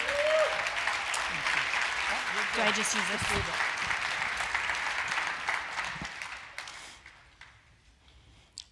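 A conference audience applauds a keynote speaker at a business event, a sustained wash of clapping that fades out over several seconds while a nearby voice speaks briefly over it.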